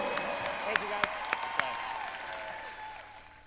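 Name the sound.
audience applause at a gymnastics championship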